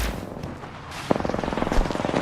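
A single gunshot in a video game lands as a sharp crack about halfway through, followed by a rapid rattling burst of repeated pulses.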